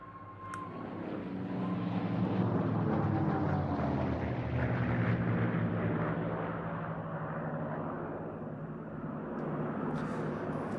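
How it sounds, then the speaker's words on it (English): A two-seat TF-51D Mustang operated by the Fighter Collection leads a formation of aircraft at a VE Day air show. Their propeller engines make a continuous droning roar that swells and then eases off at moderate distance, with no voices. "The aircraft leading this formation is a two-seat TF-51D model operated by the Fighter Collection."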